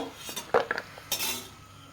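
Fried pitha cakes are set onto a plate with a utensil, giving a few quick close clinks and scrapes of metal on dishware in an otherwise quiet kitchen.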